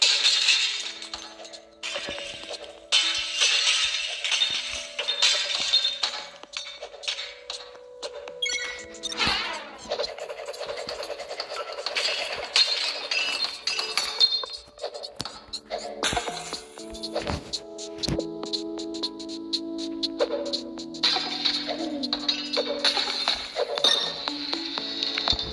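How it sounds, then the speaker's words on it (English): Glass repeatedly breaks in the video game Smash Hit, with bright clinks, pings and shattering crashes over ringing synth tones, in a busy, continuous sequence. "I thought it was just a cool little glass breaking game."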